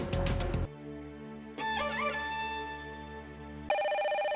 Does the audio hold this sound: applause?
no